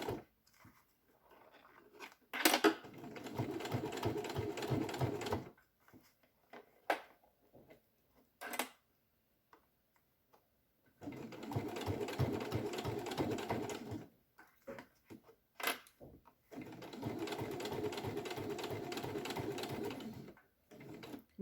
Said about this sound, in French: Et je couds au plus près.